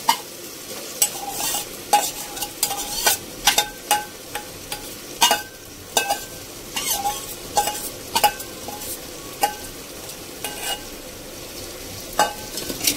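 Marinated mixed vegetables for vegetable biryani sautéed in a pan, with a steady sizzle under repeated sharp scrapes and knocks of a spoon stirring against the metal, close and continuous with no talk.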